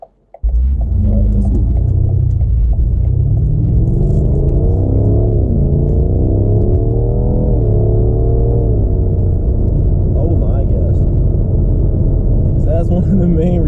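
Deep, steady 4.4-liter twin-turbo V8 of a 2018 BMW M5, loud and close, holding a constant rumble with rising and falling engine tones as it pulls hard, continuous throughout with no talking.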